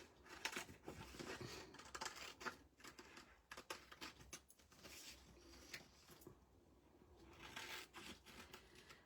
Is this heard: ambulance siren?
no